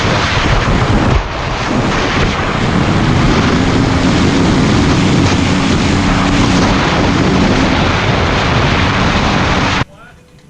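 An engine runs steadily as it warms up, giving a loud, continuous roar with a rough, throaty drone. The sound holds for about ten seconds and then cuts off abruptly.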